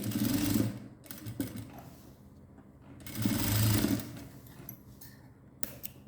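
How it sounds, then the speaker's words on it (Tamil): A sewing machine stitches the waistband of a 50-inch Patiala pant in two steady runs, each a few seconds long, with quieter pauses in between. The stitching is close and fairly soft. "இந்த இடத்துல முடித்து கெட்டி தையல் போட்டு முடிங்க"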